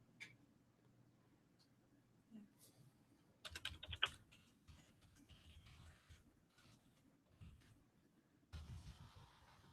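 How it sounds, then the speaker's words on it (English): Typing on a computer keyboard, with bursts of quiet key clicks scattered over about ten seconds, including a denser flurry near the middle, heard faintly against a low room hum. "Wow, my typing's terrible today."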